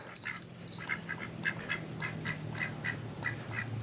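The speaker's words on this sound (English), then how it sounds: "Hello, ducks." Mallard ducks at the edge of a lake at a state park campsite quack in a quick, steady series of close, nasal calls, a dozen or so in a few seconds.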